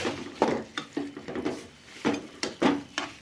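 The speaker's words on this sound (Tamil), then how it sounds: "நல்லா பிரண்டி வதக்கணும்." Chopped perandai (adamant creeper) is sautéed and stirred in a pan, with a spoon scraping and knocking against the metal in irregular taps and sweeps over a faint sizzle.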